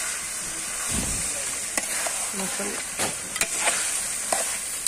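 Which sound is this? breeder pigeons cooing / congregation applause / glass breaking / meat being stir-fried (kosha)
meat being stir-fried (kosha)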